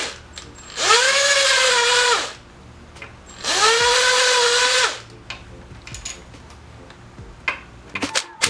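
Power tool driving out the four 13mm bolts holding a component to a Ford 4.6L 3-valve engine: two sustained whirring bursts of a couple of seconds each, followed by quieter clinks and taps.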